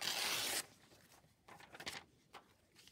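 Paper is being cut for a craft project: a brief rough tearing rasp comes first, followed by a few quiet scattered snips and rustles, faint and close with no talking.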